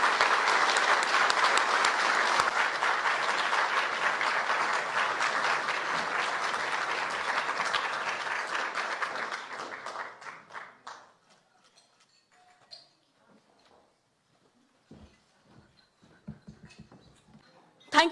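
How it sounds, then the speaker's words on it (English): Sustained applause from an audience greeting a 2022 press-freedom award honoree, loud and dense for about ten seconds before fading into scattered claps and near silence. "Please let's give a big round of applause to our 2022 International Obashan honoree, Rana Ayub."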